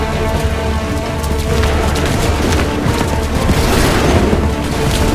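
Musket volleys in Assassin's Creed III roll as a loud, continuous barrage of booming gunfire and clattering reports on a battlefield. Bursts overlap without a clear count.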